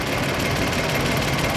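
A Nuffield Universal 3 tractor, uprated with a larger engine, runs at a steady close-up idle. Its dense, even chug and rumble continues without change through the short clip.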